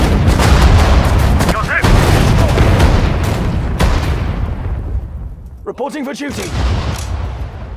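Artillery fire in the video game Sudden Strike 4, set in a British desert campaign in Africa: repeated heavy booms and gunshots rumble loudly and continuously, with unit voice acknowledgements spoken over the battle.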